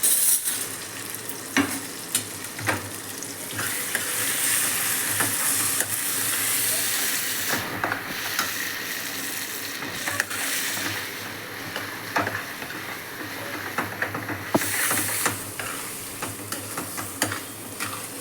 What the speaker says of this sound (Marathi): आणि आता आपण ह्याला हलवायला सुरू करूया। परतून घ्यायचं हे छान मस्त।